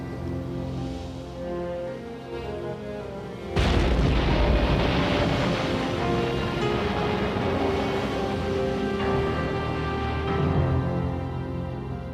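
A sudden deep boom from a submarine attack with deck cannon fire and torpedoes, followed by a long rumbling roar and crackling debris that stays loud, after a quieter stretch of low droning hum.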